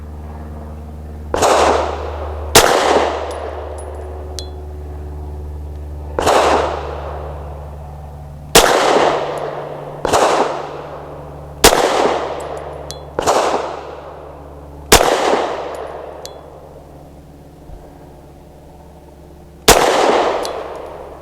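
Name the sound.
Taurus TS9 pistol gunshots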